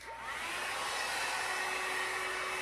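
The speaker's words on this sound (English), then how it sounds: "this is the Launch blow dryer, but they have the exact same one in Revlon" Launch blow dryer drying fine hair, a loud, steady close-up whoosh of fan and airflow that holds throughout without talk.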